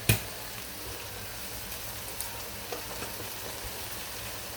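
Fresh spinach dropped into a pan of mutton gravy, giving a faint, steady sizzle and hiss with a few soft taps and clicks, no voices.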